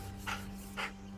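A wolf pants close by, two soft, breathy puffs roughly half a second apart over a low steady hum.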